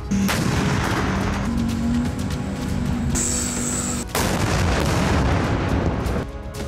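Heavy shelling and explosions in Belgorod during the Russia-Ukraine war: dense, loud rumbling bursts of artillery-like fire fill the whole stretch, with a brief sharp break near the middle and a high whine layered over one part.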